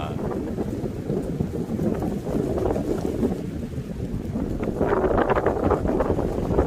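Strong wind buffets steadily across an island hilltop, a rough, continuous rumble that swells louder near the end, with a voice briefly heard under it.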